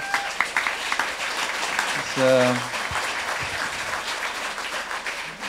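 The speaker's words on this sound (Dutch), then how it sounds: "Ja, even een applaus voor haar." Audience applause greets a woman at a Dutch event honouring the "Weirdest hack" winner, a steady wash of clapping that swells briefly in the middle while talk and a short tonal sound sit on top.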